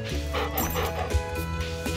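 A cartoonish dog in a farming video game barks and yips in short bursts over steady game music, the barks clear and close throughout.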